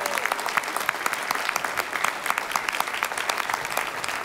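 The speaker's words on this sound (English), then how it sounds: "So if you could stand up so we could give you a round of applause." Sustained audience applause honoring educators at a hall of fame induction ceremony, a dense, even clatter of many hands, fairly close and continuing steadily without speech.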